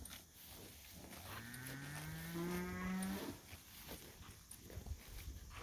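A cow in a grazing cattle mob on a dry pasture lets out one long, drawn-out moo that swells and fades, with rustling and footsteps from the herd in the background.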